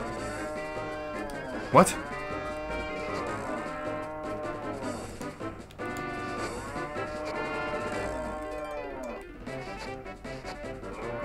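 A cow mooing in the 3DS farming game Story of Seasons: Trio of Towns: several drawn-out, tonal bovine moos repeating over the game's background audio, with a player's voice briefly speaking.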